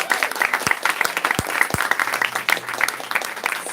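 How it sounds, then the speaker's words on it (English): A pub audience applauding at an LGBT Awareness Week celebration, with lively, close clapping that is dense and continuous and carries a few louder individual claps and faint cheers. "let's give it a round of applause."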